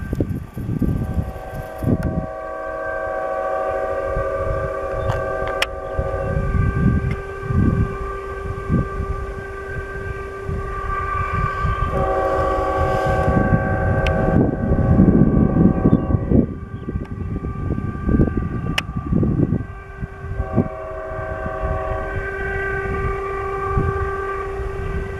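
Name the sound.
Union Pacific freight train passing with horn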